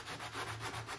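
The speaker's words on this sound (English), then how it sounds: "Now I'm just going to spend some time with 90 grit or 80 grit sandpaper and just work the entire decoy." Steady back-and-forth scraping of 80 to 90 grit sandpaper worked over a carved wooden drake duck decoy, with continuous close abrasive rubbing and gentle rhythmic swells, no talk.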